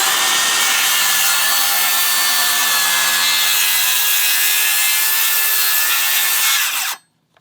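DeWalt cordless circular saw cutting through wood, a loud continuous high whining rip that holds steady for several seconds, then cuts off sharply as the blade finishes.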